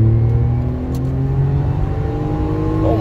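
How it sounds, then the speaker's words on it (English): A 1996 Daihatsu Mira TRXX engine revs hard under acceleration, a steady loud drone held close throughout with no talk over it. "Oh my god, it revs to the moon!"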